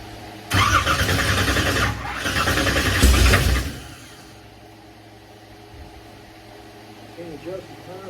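A 1967 car's engine cranks over with a loud, rough churning burst lasting about three seconds, close to the listener, then cuts off into a low, quiet background.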